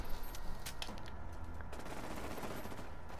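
Gunfire in the video game Fallout 76, a rapid fusillade of shots with sharp bursts early on settling into dense continuous firing, fairly loud and steady throughout with no talking.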